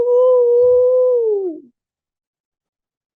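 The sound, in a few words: wolves howling in the distance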